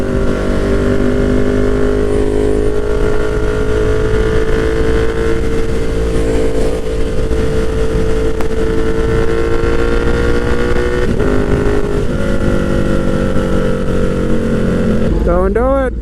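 KTM Superduke motorcycle ride on the way to Kyalami, a loud steady engine drone with shifting pitch and heavy wind rush, a brief dip in revs partway and a rising rev near the end.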